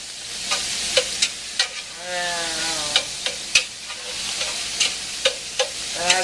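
Bolognese ground meat cooking in a hot pan while a whisk breaks it up, a steady sizzle punctuated by sharp metallic taps and scrapes of the whisk at irregular intervals.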